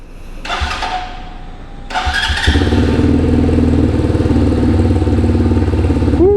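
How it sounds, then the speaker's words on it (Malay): A KTNS TT150 Classic single-cylinder motorcycle is cranked twice, the first attempt sputtering briefly before the engine catches and settles into a steady, close, loud thumping idle. "Kita on motor ni."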